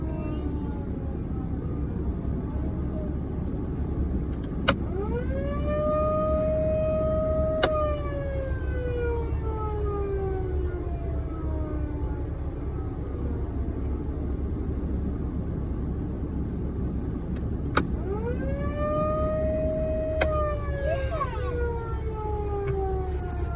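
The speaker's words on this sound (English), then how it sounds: "Gives them the best reach with the sound of that siren." A loud siren for calling cattle on winter pasture winds up and slowly falls away twice, a long sweeping wail carrying across open ground with sharp clicks at each start.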